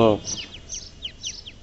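Healthy farmed quail give a quick series of thin, high, repeated chirps at moderate distance, just after a brief burst of a voice at the start.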